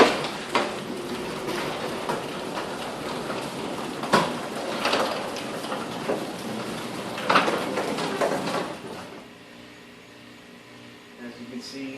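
Garage door opener running on a newly replaced belt with the door attached, a continuous rumbling mechanical drone with rattles and clunks that stops near the end, with someone talking over it.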